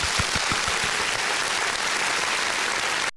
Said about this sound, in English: Should I just be doing applause at this time?